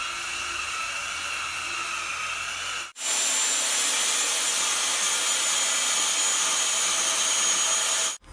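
A steady, loud power-sander whir grinds against rough-cut wooden posts, pausing briefly once before resuming with a harsher, brighter hiss that runs on continuously.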